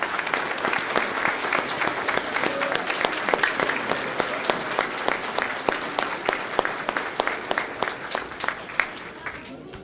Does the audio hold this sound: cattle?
no